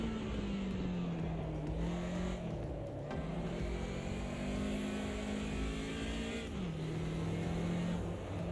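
A 2019 stock car races in the AMS2 video game, its engine droning steadily with a sustained mid-pitched tone that dips and recovers with gear changes, continuous and fairly loud throughout.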